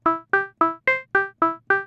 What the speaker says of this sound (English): you can hear a very sort of high resonance sound picking out a harmonic, which is the sound of the resonance on the filter